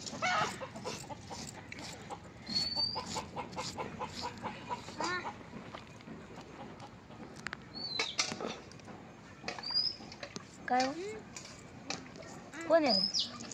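Chickens clucking and birds calling in the evening around a rural outdoor cooking spot, short scattered calls and chirps near and far over a low background hum, with a voice speaking intermittently.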